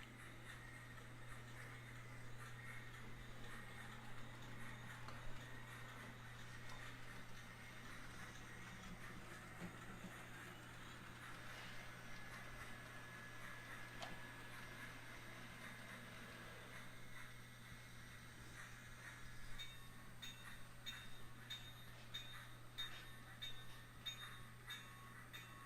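A Santa Fe Super Chief model train, a 9-car train, hums and rumbles steadily along its layout track into Union Station for a long stretch, with occasional light metallic clinks and no talking.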